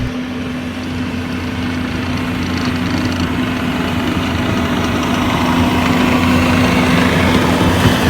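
A mini excavator's engine works while spreading and grading gravel, running at maximum capacity. The close, steady drone holds a constant low hum and grows slightly louder toward the end, with no talking.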